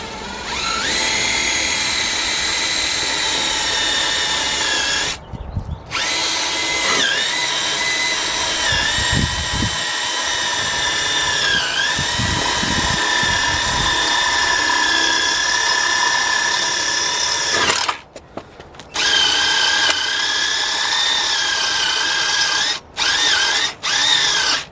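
Power tool whirring continuously while removing a ball joint from a car, loud high-pitched drilling with a few brief pauses and restarts, no talking.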